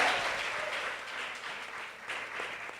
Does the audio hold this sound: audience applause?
yes